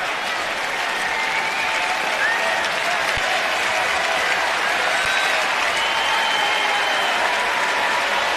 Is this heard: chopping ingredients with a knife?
no